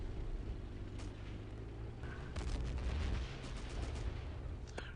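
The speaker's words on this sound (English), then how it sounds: "Hearing the whistling sounds of some tank cannon." Tank cannon fire in the Battlefield 1942 video game: heavy booms and blasts roll out of a dense, constant battle din, with sharper cracks scattered through the five seconds.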